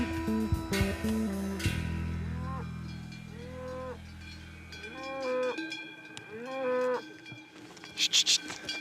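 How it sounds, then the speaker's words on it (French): Swiss cows in an alpine meadow in Valais, moos rising and falling several times at a distance, with cowbells clanking and tinkling throughout and a louder burst of bells near the end. "We zijn het land van de koeien binnengedrongen"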